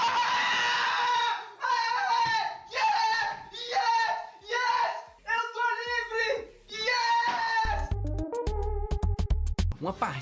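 Chickens cluck and squawk repeatedly in the Cuphead video game, giving a rhythmic run of loud bird calls followed by sharp rapid game hits and thumps, with talk over it.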